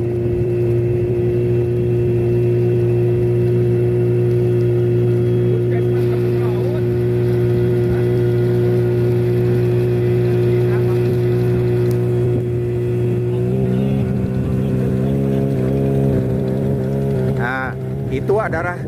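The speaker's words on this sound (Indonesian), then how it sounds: "Itu adalah kapal" A villagers' boat at a harbour on the Cilacap–Pangandaran crossing near Nusakambangan: a steady, loud engine drone with a strong low hum running throughout, shifting slightly near the end, with faint voices in the background.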